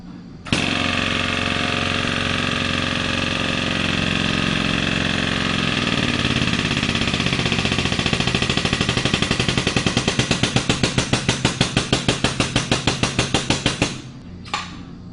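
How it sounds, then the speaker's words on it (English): A Parker Minikrimp hand crimper presses a hose fitting, giving a steady mechanical drone that breaks into rapid, evenly spaced clicks as the die ring is driven down, then stops abruptly near the end. "begin to crimp the fitting and continue to apply pressure to the crimp until the die ring bottoms out on the crimper"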